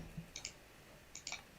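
Computer mouse clicks, faint and close, come in two quick bursts of a few sharp taps each, separated by a short quiet pause.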